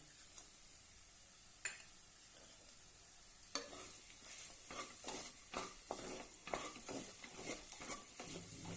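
Finger millet sheera with jaggery and cardamom stirred in a pan, soft sizzling under a quickening series of scraping spoon strokes, fairly quiet and near, no talking.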